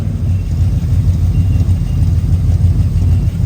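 Holden engine idling on a swapped carburettor and running rich, a loud, steady low rumble with an even, slightly lumpy pulse throughout, close by and alone.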